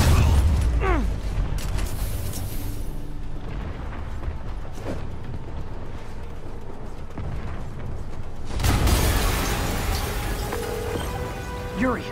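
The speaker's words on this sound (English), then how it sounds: "An explosion just... I saw it." A loud explosion in a Spider-Man video game, with a deep boom at the start and a second broadband blast near the end, set against game sound effects and character voices.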